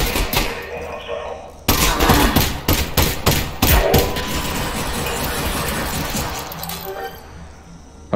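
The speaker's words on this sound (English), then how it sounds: "stop shooting me like that" Gunfire aimed at the player in Half-Life: Alyx, sharp loud cracks in a quick irregular volley followed by a busy, noisy stretch with breaking-glass-like clatter.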